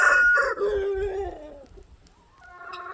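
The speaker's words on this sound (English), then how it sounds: "Oh man, more chickens" A rooster crows in a long, descending call, followed by softer clucking and another fowl call rising near the end.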